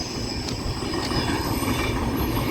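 A train runs past on the adjacent track in heavy rain, a steady, loud rumbling roar with faint wheel squeal and a couple of light knocks, continuous throughout with no voices.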